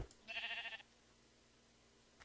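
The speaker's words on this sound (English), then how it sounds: "I just want to double check that they're sheep and not creepers." Sheep bleat once in Minecraft, a short, wavering nasal cry about half a second long, fairly faint against a quiet background, followed by silence and a soft click near the end.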